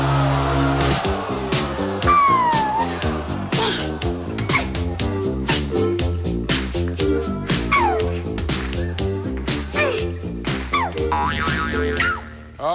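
Cartoonish whammy sound effects from the Press Your Luck game show play loudly in a rapid rhythmic jingle, with zany boings, descending slide whistles and honks bursting over a bouncy synthesized tune.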